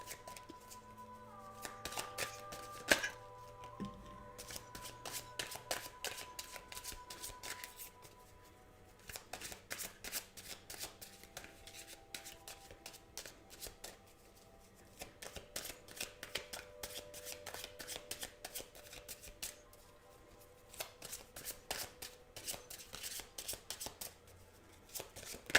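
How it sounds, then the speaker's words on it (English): Tarot cards are shuffled by hand close to the microphone in a quiet room, with repeated crisp riffling bursts and soft slapping clusters coming and going over about twenty-five seconds. "I'm shuffling for you now."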